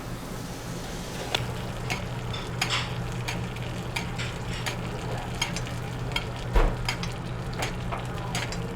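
Pork loins sizzle in butter in a hot pan, a steady close frying crackle with scattered sharp pops and a light scrape or clink of a utensil near the end.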